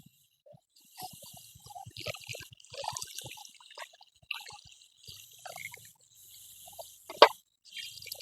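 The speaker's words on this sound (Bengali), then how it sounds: "আর একটু জল দেব" Water poured into a pot while cooking semai (vermicelli), heard as soft trickling and plopping sounds in uneven bursts, with one sharp splash near the end; moderately close and fairly quiet.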